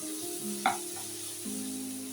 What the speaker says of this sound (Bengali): এই যে এখন আমি মাছের ডিমগুলি দিয়ে দিলাম, দিয়ে এখন আমি এটাকে বেশ ভালো করে ভাজা করব